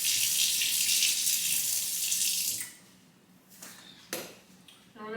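Water runs steadily from a kitchen tap for a rinse during breakfast and coffee prep, a loud hissing stream that stops after about two and a half seconds, followed by quieter handling clatter.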